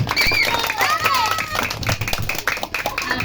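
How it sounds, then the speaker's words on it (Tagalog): Guests at a seventh birthday party clap loudly in a dense burst of applause, mixed with crowd chatter and voices. "Yung malakas na palakpak kay Mommy"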